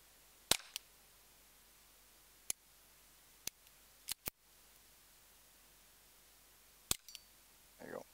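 Simunition training rounds are fired from a pistol at steel plates, sharp isolated cracks in a quick series against quiet background, with a voice briefly at the end.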